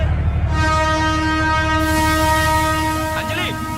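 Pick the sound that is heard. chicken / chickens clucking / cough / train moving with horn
train moving with horn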